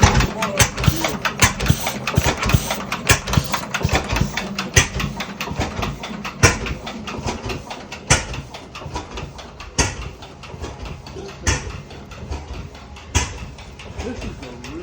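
An old Hercules engine starts and runs with uneven, sharp popping beats and a rough chugging rhythm, loud and near, with people talking over it.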